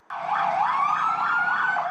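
Emergency siren from an ambulance trailed by a police cruiser running a red light on Lawrence Avenue in Toronto, a loud, close wail sweeping rhythmically up and down, starting abruptly and continuing steadily.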